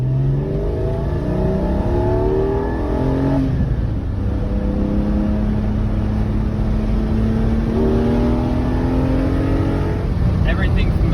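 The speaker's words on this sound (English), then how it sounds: "so you all can see Tom driving the GT4." A Porsche GT4 on a race track roars through gears, its engine note climbing and dropping as it shifts, loud and continuous with a brief lift near the middle.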